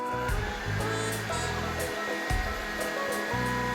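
A meat grinder runs continuously with a loud, steady motor whine and a rhythmic, pulsing drone as chopped onion and cilantro pass through for khinkali dumpling filling.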